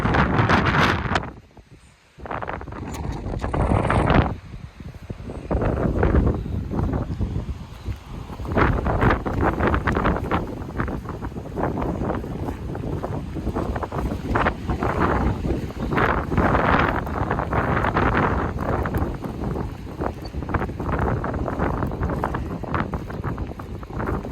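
Strong gusts of wind on a rainy farm buffet the microphone, roaring and rumbling continuously with uneven surges and a brief lull near the start.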